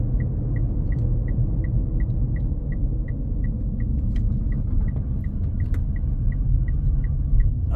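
A Mitsubishi PHEV being driven gives off a steady, evenly spaced rattle, a light tick repeating about three times a second over continuous road rumble and cabin hum, with no talking.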